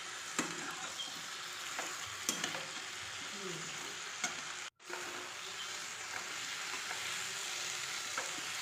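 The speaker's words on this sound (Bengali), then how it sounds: "মিশিয়ে ভালো করে কষিয়ে নেব।" Vegetables stir-fried with a ground paste of radhuni, white sesame and ginger for Bengali shukto, a soft steady sizzle in the pan with intermittent scraping stirs of a spoon, fairly quiet and without talk.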